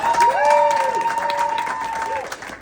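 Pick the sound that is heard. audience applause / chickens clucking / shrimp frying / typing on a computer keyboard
audience applause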